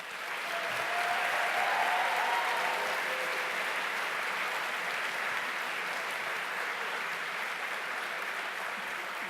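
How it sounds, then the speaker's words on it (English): Sustained applause from a middle school concert band audience fills the hall, a steady dense wash of clapping that holds loud throughout without a break. "if you just join me with some thunderous applause for fantastic music educators"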